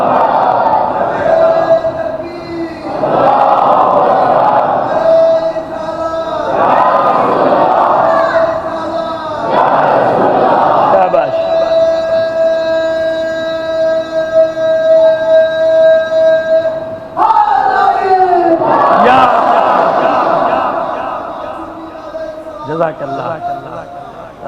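A gathered congregation at an imambargah majlis shouts religious slogans in unison, loud surging call-and-response waves repeating every few seconds, with a sustained tonal drone running beneath and a voice leading the chant.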